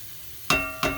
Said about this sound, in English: Just keep stirring that around.